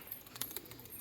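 Soft pigeon coos come in a few short, faint calls, heard briefly and from a little distance in a quiet setting.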